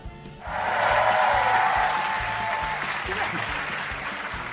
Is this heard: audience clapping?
yes